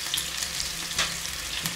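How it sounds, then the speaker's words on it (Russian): Cutlets fry in a pan with a steady close sizzle and faint crackle that runs throughout, with a few slightly louder spits and no talking. "У нас все тут жарится, парится, варится."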